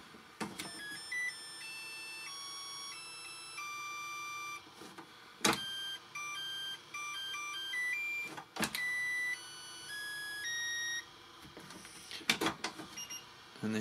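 A counterfeit Makita-style 18V dual battery charger plays its electronic beeping tune, a short melody of high, clean tones repeated several times between louder clicks and handling knocks, close and alone with no talk.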